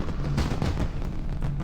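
Fireworks bursting at the Lunar Festival in World of Warcraft Classic, a dense series of muffled booms and crackles under a steady rumbling ambience.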